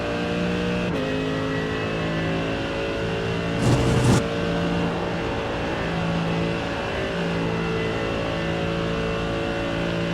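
A Mercedes-AMG GT3 race car at Spa in a racing video game holds a steady, loud engine drone with stable harmonic tones, a brief burst of gear-shift or kerb noise midway, and no talk.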